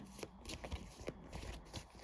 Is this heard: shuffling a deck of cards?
yes